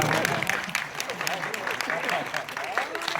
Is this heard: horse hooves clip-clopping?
no